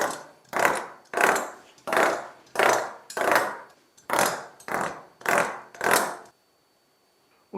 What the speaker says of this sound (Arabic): نبدا فقط نثقب في العجين بهذه الطريقه